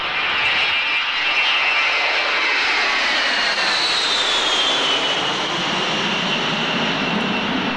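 Aircraft departing on the day after the 1991 air show, engine roar loud and sustained throughout, with a rising whine sweeping across it and no voices.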